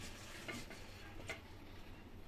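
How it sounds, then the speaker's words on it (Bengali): Eggs fry in oil left over from cooking fried chira, giving a steady soft sizzle with faint stirring clicks throughout. "তেল্লা চূড়ার তেল দিয়ে ডিম বেজে নিলাম"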